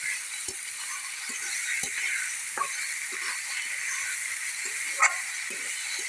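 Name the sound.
stirring and frying bottle gourd greens in a pan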